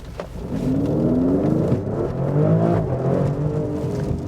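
A Maserati Grecale Trofeo with a V6 engine accelerates hard from a standstill, its engine note rising steadily and loud with no talking.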